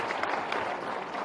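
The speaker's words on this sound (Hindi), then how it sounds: "ये जोरदार ताली बजाओ" An audience claps together at a youth dialogue event in Bhopal, a dense, fairly close burst of applause that stays even for a brief moment.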